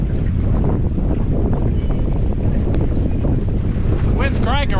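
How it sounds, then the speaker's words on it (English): Strong wind roars steadily across the microphone on Old Hickory Lake while catfishing from a boat. The loud, continuous buffeting lasts throughout, and a brief voice surfaces near the end. "The wind's cranking right now"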